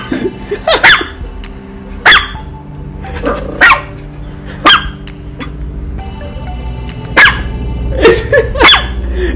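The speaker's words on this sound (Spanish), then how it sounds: "voy a poner ladrido de perros" Recorded dog barking plays through a computer speaker as a test for a newly adopted puppy: sharp barks in irregular bursts, some doubled, over a steady background hiss, no voices.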